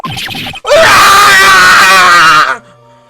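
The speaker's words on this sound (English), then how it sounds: "That scream I heard in the elevator 15 years ago." A long, loud scream with a strained, wavering tone in the Phoenix Wright: Ace Attorney video game, preceded by a brief burst of sound and then cut off abruptly.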